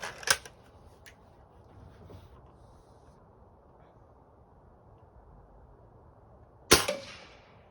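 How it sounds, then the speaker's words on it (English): Xisico XS46U air rifle firing pellets: two sharp close cracks about six seconds apart, each followed by a short fading ring, with faint clicks and quiet room noise between. "I wasn't expecting the gun to go off that quickly"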